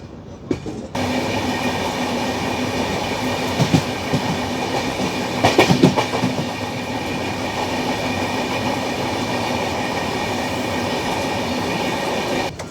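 A train runs along the Rajkot–Okha line with a steady, loud rumble of wheels on track, marked by a few clattering bursts over rail joints midway, and no talk.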